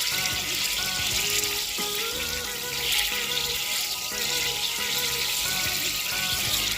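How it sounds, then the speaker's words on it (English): Half a stick of butter melts in a pan as the start of a roux for vegan mac and cheese, giving a steady, continuous sizzling hiss with a faint tonal hum and no talking. "So we're going to melt the butter first."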